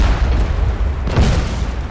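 A ship's mortar fires in the naval game Blazing Sails, a single deep booming blast with a rumbling tail, close and fairly loud.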